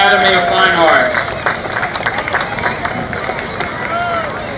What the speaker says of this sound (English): Let's give a warm round of applause for the Academy of Fine Arts.